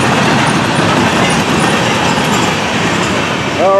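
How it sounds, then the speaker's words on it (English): Freight train with chlorine tank cars bound for a chemical plant rolls steadily past at close range, a loud continuous rumble of wheels on rail with faint clacking and a brief squeal near the end. "Chlorine cars they are for Allied Chemical Plant"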